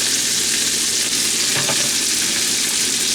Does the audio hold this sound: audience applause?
no